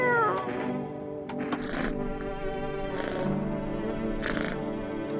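A cat meows several times, short drawn-out cries spaced a second or so apart, fairly close, with a few sharp clicks between them.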